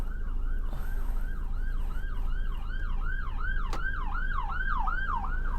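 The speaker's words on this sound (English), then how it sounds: "Come on, ambulance, around you go." An ambulance siren whoops in a fast, repeating rising-falling pattern, loud and close over the steady hum of road traffic.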